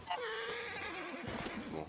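A horse whinnies in the video game PUBG (Battlegrounds), a falling, wavering neigh that fills the whole two seconds, with game noise and hoof clatter mixed in underneath.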